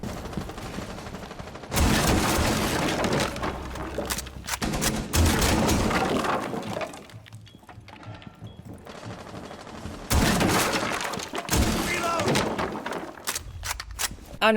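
Heavy, rapid shotgun blasts in Rainbow Six Siege X, the gun used to breach walls, floors and ceilings, booming in long loud clusters with a short quieter gap midway.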